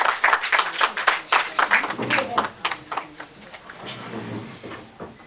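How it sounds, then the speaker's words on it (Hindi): An audience at an Indian literary award and book launch ceremony applauds a guest invited onto the stage, a dense burst of clapping that thins out over a few seconds, with talk in the background. "अतिथियों से अनुरोध है कि कृपया तालियों से उत्साहवर्धन करें"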